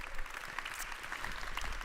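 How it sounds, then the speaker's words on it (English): A conference audience gives a round of applause at a mobility trade show event: brief, dense clapping from many hands, moderately loud and even, with no voices over it. "So give yourselves a big round of applause."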